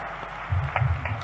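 An audience at a political event claps to welcome a government minister, a short burst of applause with a low rumbling backdrop that swells midway.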